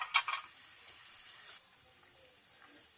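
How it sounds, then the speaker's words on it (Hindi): Soya chunks cooking in a pan for soya bean and egg pulav, a faint, steady hiss and sizzle with a few small pops and crackles near the start, no talking. "सोयाबीन की बरी डाल देंगे और इसको 1 से 2 मिनट तक इसे पकने देंगे"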